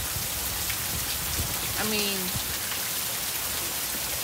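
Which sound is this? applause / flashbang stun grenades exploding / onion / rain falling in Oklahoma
rain falling in Oklahoma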